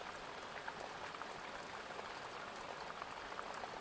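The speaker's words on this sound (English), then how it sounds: "the sound of the rain to help relax them" Steady rain pours down in a continuous, even hiss with scattered drop patters, soft and constant throughout with no voices.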